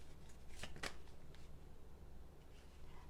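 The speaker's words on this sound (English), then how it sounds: "so I'm going to keep shuffling" Tarot cards being shuffled by hand during a card reading: a few quick riffling bursts early on, then softer scattered card rustles, quiet and close.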